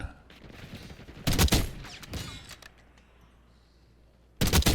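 Gunfire from a .45 secondary pistol in the Black Ops 6 beta video game: a loud burst of rapid shots, a second quieter volley, then another loud burst at the end, with no talking.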